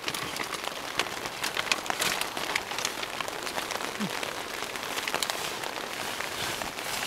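Rain pattering on a lakeside campsite near Priest Lake, Idaho: a soft, steady patter with scattered sharper drops and light crinkling, faint and close, no talking.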